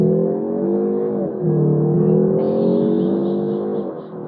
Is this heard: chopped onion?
no